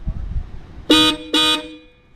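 Two loud, close blasts from aftermarket Hella horns installed on a Mazda CX3, the second following the first almost immediately, with a quiet background before and after.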